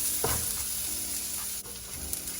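Pressed garlic cloves and onions sizzle in a frying pan, giving a steady close, loud frying hiss with brief stirring scrapes and no voices.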